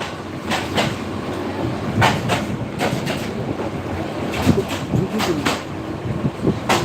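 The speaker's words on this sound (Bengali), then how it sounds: "ময়মনসিংহের শহর অতিক্রম করে খাগড়ুর দিকে চলে যাচ্ছে ট্রেন" The Bijoy Express passenger train rolls through Mymensingh town with a steady, close rumble, broken by sharp, regular wheel clicks over the rail joints.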